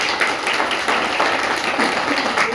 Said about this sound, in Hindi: एक बार उनके लिए मैं जोरदार तालियां चाहता हूं।